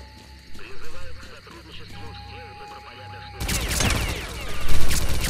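Gunfire in S.T.A.L.K.E.R.: Clear Sky erupts as a dense burst of loud shots in the final seconds, after quieter game ambience and rumbling.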